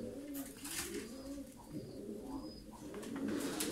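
Tumbler pigeons cooing nearby in a loft, with soft repeated low throaty coos overlapping across a few seconds and faint background rustling, heard without speech.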